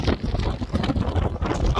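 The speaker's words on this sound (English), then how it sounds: "it's so windy you can't even hear me talk." Strong desert wind buffets the microphone in loud, continuous gusts, a low roaring rumble with no talking.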